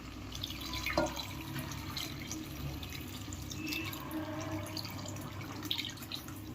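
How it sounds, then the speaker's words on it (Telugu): Tamarind juice poured into simmering dal with bottle gourd in a home kitchen, a steady liquid trickle and splash running continuously at close range, with no talking. "చింతపండు రసం పోసుకోవాలి"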